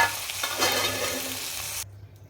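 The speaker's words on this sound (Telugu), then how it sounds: "ఇప్పుడు పొడి చేసిన ఈ ఇడ్లీ ఇందులో బాగా కలపాలి" Crumbled idli being stirred into upma in a pan, a scraping, lightly sizzling stir heard close up for about two seconds before cutting to near quiet, with no talk.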